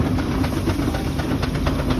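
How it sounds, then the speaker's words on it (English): A steam roller arriving at a steam fair gives a continuous low, heavy chuffing rumble with faint rhythmic beats, steady and fairly close throughout the short stretch, with no voices. "Very famous roller coming flying in here, driven by one of the Dibner boys."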